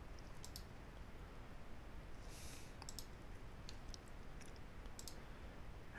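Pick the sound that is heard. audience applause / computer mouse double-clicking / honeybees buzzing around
computer mouse double-clicking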